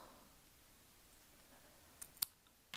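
Scissors snip through lengths of yarn while pieces are cut for a three-color Tunisian crochet shower scrubbie; a few faint, quick clicks come near the end of an otherwise quiet stretch.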